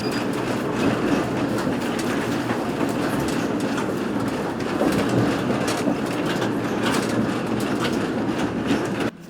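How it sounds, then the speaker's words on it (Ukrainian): Odesa tram number 20 rumbling along its rails seen from inside, a loud continuous roar of wheels and car body with faint repeated clicks over joints and no voices throughout. "Зараз ми знаходимося у 20-му трамваї."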